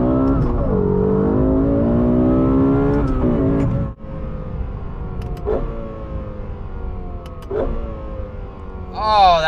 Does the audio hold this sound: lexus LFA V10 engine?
yes